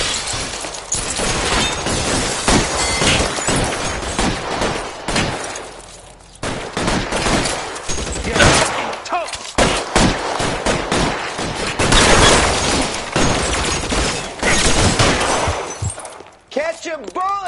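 Heavy gunfire fills a shootout in the PS4 game L.A. Noire, dense volleys of shots and ricochets crackling almost nonstop at high volume, with shouting voices mixed in and a brief lull before more fire.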